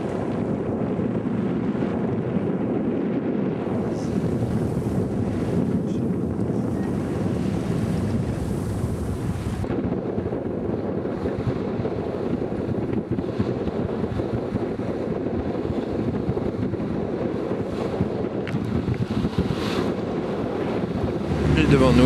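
A sailboat runs under sail through the Inside Passage from Prince Rupert toward Alaska, with constant wind rushing over the microphone and steady wave and hull-water noise throughout, loud and unbroken.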